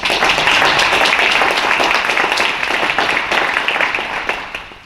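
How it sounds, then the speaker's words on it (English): Applause from a luncheon audience honoring sponsors at a Sacramento clean air partnership event, a dense steady wash of clapping filling the room and tapering slightly at the end. "Let's give them a round of applause."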